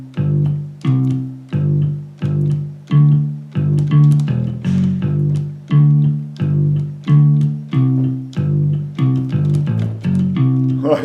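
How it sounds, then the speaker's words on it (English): Bass-like line played on a Roland digital accordion, chord spaces left as rests, with steady, loud, sustained low notes repeating in an even rhythm and no voice. "bass guitar sounds, because really what you're doing is trying to simulate the bass guitar."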